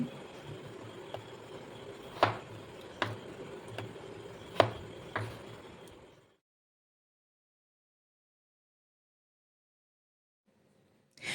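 A knife chops potatoes into thick chunks on a board, giving several sharp, separate cuts at an uneven pace before everything goes silent.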